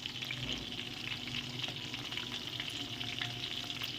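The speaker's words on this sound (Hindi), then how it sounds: "तो बिल्कुल लो टू मीडियम फ्लेम पर इन्हें फ्राई करेंगे" Chicken starter pieces fry in a pan over a low to medium flame, giving a steady, soft, close sizzle with faint crackles and no talking.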